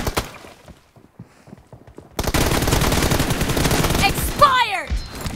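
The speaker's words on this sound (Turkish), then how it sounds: "Çatır çatır vuruyor." Sustained rapid gunfire in PUBG Mobile, dense and loud, erupting after a quieter stretch of faint taps and continuing for several seconds with a whooshing sweep near the end.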